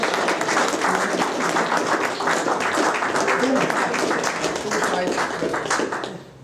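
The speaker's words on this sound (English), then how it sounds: "Can you give a round of applause" Audience applause at an indoor gathering of a Catholic men's order after meals and barbecues are served, a dense steady wash of many hands clapping that holds for several seconds, then fades out at the end.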